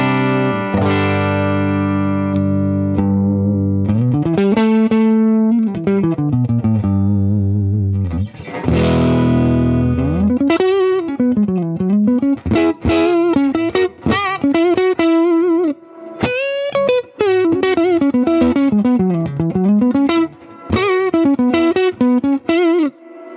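Electric guitar plays through the normal channel of a Vox AC15 C1 amp with volume and master at half, starting with sustained chords, then moving into bends and quick melodic runs. The tone is loud and slightly driven, with clean gaps between phrases.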